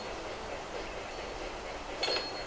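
A train running in the Railroad Tycoon 3 video game, a steady faint rolling rumble with a brief brighter metallic clink near the end, no talking.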